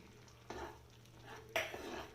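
Ghee-fried jackfruit, coconut and cashews tipped into a pot of jackfruit payasam and stirred, two soft scraping clatters of a spoon against the vessel, close and quiet.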